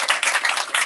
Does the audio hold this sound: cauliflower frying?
no